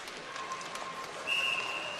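At an ice hockey game in an arena, a referee's whistle shrills once clearly about midway, steady and piercing above faint crowd noise.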